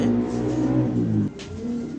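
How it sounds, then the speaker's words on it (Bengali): A pair of white racer pigeons coo softly and low with throaty burbling tones, fairly close, accompanied by a faint engine-like hum in the background. "এখানে এক পেয়ার হোয়াইট রিসার কবুতর দিলাম"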